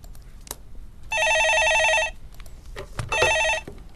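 An incoming call rings a telephone in a stock market radio studio: two bursts of bright electronic bell tones, each about a second long, separated by a short pause, with faint background noise and brief murmurs.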